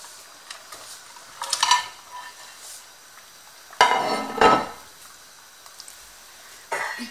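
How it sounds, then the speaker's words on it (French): Cut carrots and chunks of white onion tumble into a cooking pot for Moroccan lamb couscous, a few close clattering knocks and scrapes in separate bursts with quiet gaps between. "ainsi que les carottes coupées, lavées et coupées, des tronçons d'oignons blancs dans la marmite."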